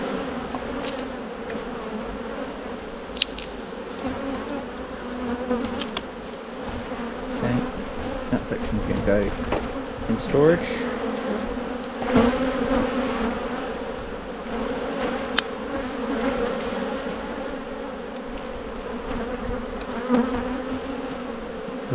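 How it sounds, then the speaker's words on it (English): Honey bees swarm and buzz around an open hive as frames are worked, a dense continuous drone close to the microphone with brief sharp knocks, while someone speaks briefly. "I'm kind of being pinned by bees as well."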